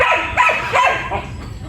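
Belgian Malinois barking close by on a farm at night, a few loud sharp barks in quick succession with no talk.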